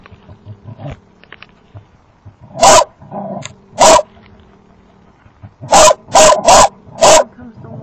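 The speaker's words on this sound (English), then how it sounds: "And there's my crazy dog, if you can see him." A dog attacking a possum outdoors barks in loud, close bursts, one, then another, then four quick barks in a row, with low growling and rustling between them.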